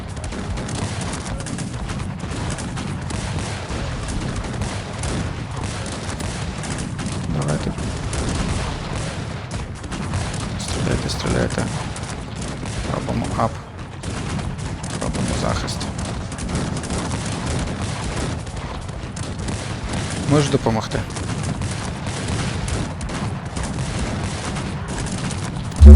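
Musket volleys in Cossacks 3 battle gameplay crackle and rumble in repeated dense bursts over a continuous roar of combat, loud and sustained throughout.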